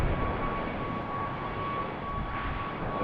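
A plane departing from BWI airport roars steadily with a broad, continuous engine rumble, fairly loud and unbroken, with no voices over it.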